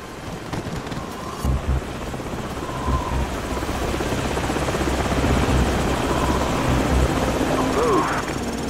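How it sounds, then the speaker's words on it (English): An enemy helicopter's loud, steady rotor thrum in Call of Duty 4: Modern Warfare fills the scene, growing slightly louder as it continues, with game sound effects mixed in. "Enemy helicopters."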